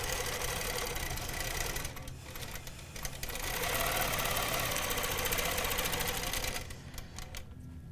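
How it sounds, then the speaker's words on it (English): Sewing machine stitching a quilt block with a spinning-wheel ruler, fast steady rattling run that pauses briefly twice and resumes, close and loud with no talking. "turning to that third line over and sewing around that top point"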